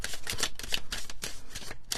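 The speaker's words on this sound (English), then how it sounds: "Did I shuffle 3 times?" Oracle cards are shuffled by hand in a rapid series of crisp, close riffling bursts with brief gaps, without any talk.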